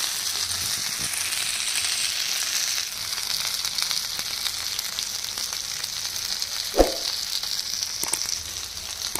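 Pandugappa fish fillets fry in hot oil, crisping to a red finish, with a dense, close, continuous sizzle, a few brief crackles and spatters, and one sharp knock partway through.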